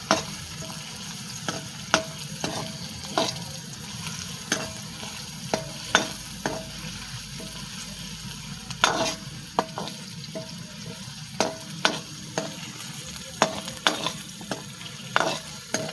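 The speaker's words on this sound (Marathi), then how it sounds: "लसूण घेतलं थोडंसं टाकून. भाजून घ्यायचं आता." Onion and garlic roasting in a pan, an even frying sizzle broken by regular clinks and scrapes from a stirring spoon, close by and with no voices.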